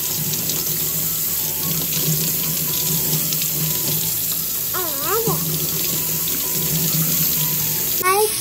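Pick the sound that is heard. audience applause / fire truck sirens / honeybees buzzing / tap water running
tap water running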